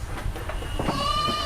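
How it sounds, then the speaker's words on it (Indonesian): Saanen goat on a dairy goat farm bleating once, a drawn-out nasal call rising to a steady tone near the end, close and clear over a background of livestock barn noise. "Nah, ini kambing sanen."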